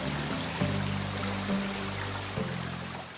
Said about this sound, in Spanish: un paraje muy frecuentado por vecinos y visitantes para encontrarse con el río, escuchar su rumor o admirar su belleza